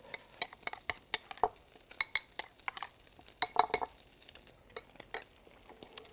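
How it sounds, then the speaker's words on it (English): Sauce mixture being stirred briskly in a pan, with rapid irregular clinks and scrapes of utensil against the pan and a light sizzle beneath, close and fairly quiet. "So we do a nice mixture here of the sauce"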